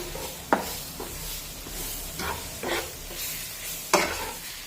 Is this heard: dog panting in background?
no